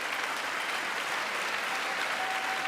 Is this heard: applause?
yes